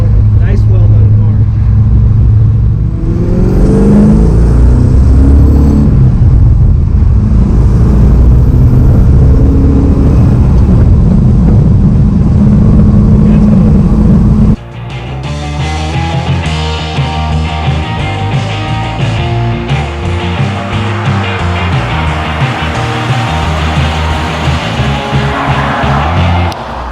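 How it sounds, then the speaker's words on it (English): A 1955 Chevy Bel Air rolls over railroad tracks, its steady engine and road rumble loud and close, with a few soft bumps and no rattles, then the tone shifts to a busier, rougher drone later on. "Just listen to how smooth this car is going over the railroad tracks."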